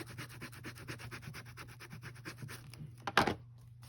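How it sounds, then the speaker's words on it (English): Collage paper being burnished down onto a journal page by hand, a soft, steady rubbing and scraping that runs close and continuous before a brief louder scuff near the end. "Burnish that down."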